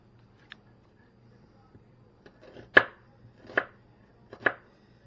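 A knife cuts through a medium-sized red onion on a board, a few separate crisp chops, three of them louder, close and with quiet gaps between.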